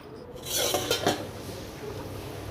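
A pot lid clinks and clatters as it is lifted off chicken curry boiling on the stove, followed by a steady, soft bubbling hiss that continues alone.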